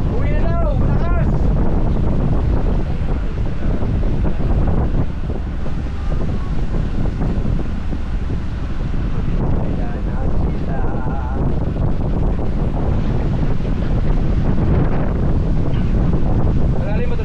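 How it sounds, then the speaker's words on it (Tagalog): Strong typhoon wind roaring over a boat at sea near Coron, constant loud buffeting rush with wave noise beneath. "pinapahupa muna namin yung hangin bago bumaba"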